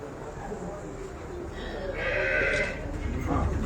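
A calf lets out a drawn-out bleat partway through, heard over steady outdoor background noise and murmuring voices.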